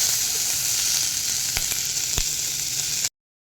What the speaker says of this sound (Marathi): एखाद दोन मिनटं परतून घेऊया गॅस बारीकच ठेवायचं आहे